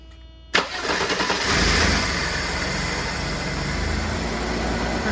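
Classic Mercedes-Benz with Jetronic fuel injection, a slow-start fault just fixed, starting up: a sharp crank catches at once into a loud revving surge, then settles to a steady idle.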